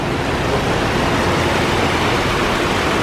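Hyatt Hotel lobby waterfall in San Antonio gives off a constant broadband rush of pouring water, loud and unvarying throughout, with no voices on top.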